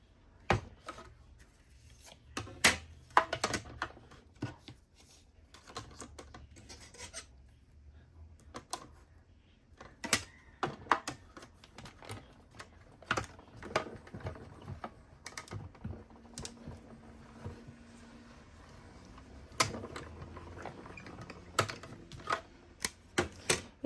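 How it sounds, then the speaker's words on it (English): A die cut machine runs card through for a heart-shaped Stampin' Up! birthday card, heard as a series of close clicks, clunks and rolling scrapes, with a low grinding passage partway through and no talk. "And let me bring out my die cut machine."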